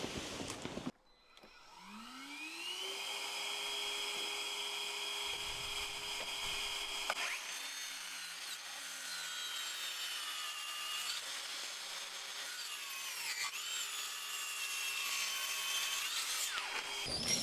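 A power saw spins up with a rising whine and then cuts to trim the end of a glued-up wooden workbench top, a loud, sustained buzzing grind that continues close and steady with no talking.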